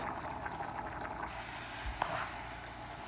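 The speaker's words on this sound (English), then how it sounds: "we have come to the point of it sizzling. You hear it?" A soft, continuous sizzle and bubbling from a pot of white rice drying up, faint and steady, with a small knock partway through and no voices.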